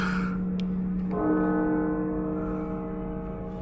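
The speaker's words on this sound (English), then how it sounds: "I can hear the bells." A church bell tolls with a long ringing hum that sustains and slowly fades, heard alone in a quiet setting.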